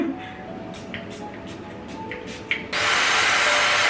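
A Dyson hair dryer switches on at its highest heat setting, bursting into a loud, steady broadband airflow roar after a quieter stretch of faint room noise and light handling sounds.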